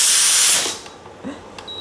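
A small pressure cooker on an induction cooktop lets out a loud burst of hissing steam that cuts off after about half a second, followed by faint kitchen clinks.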